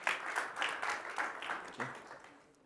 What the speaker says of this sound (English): can we have a warm round of applause for Chris and Prescott, please.